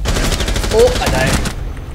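Loud, dense gunfire bursts from the tactical shooter game Rainbow Six Siege fill the first second and a half with sharp, overlapping shots, then cut off abruptly into quieter background.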